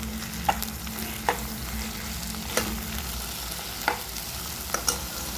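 Amaranth leaf curry with dried red chillies bubbles and sizzles steadily in a pan, with a spoon scraping through it at a few spaced, distinct moments and no one talking.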